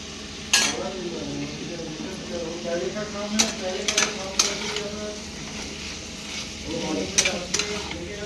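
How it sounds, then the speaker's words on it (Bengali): Chicken meat fries in a pan with steady sizzling while a utensil stirs and scrapes it, with sharp clinks against the metal at intervals and a faint background hum. "এদিকে আমার মাংসটা ভাজা হয়ে এসেছে"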